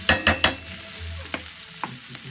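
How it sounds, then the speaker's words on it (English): Garlic and onions browning in bacon fat: three sharp stirring scrapes open, then a low steady sizzle carries on with a few lighter clicks of the utensil, close and moderately loud. "I got my garlic and onions browning in bacon fat"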